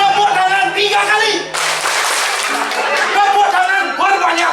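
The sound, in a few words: audience clapping three times on request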